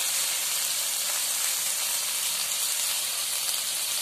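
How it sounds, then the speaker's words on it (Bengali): Chopped tomato hits hot spiced oil in a pan, producing a loud, continuous close-up sizzle and steamy hiss that stays even and unbroken throughout, with no talking. "এবারে আমি দিয়ে দিচ্ছি টমেটো কুচিটা, এটা দিয়েও আমি 2-3 মিনিট নাড়ব।"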